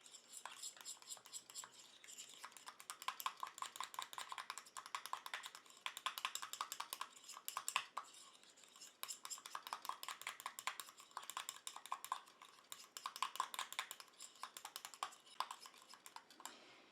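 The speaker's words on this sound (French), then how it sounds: "je viens mélanger." Carrot cream being stirred in a small bowl, with a quick, steady run of close ticking and scraping strokes that pauses briefly, then goes on at the same brisk pace, faint overall.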